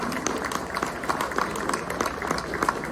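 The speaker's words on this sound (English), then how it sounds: "Let's give them a round of applause for sharing with us this evening." A crowd applauds at a collector car show evening event, with irregular individual claps and some cheering blended into a steady, moderately loud patter.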